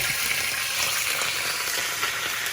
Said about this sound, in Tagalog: okay na yung ating oil. Bali, linagay ko na yung garlic natin. So, saute lang natin.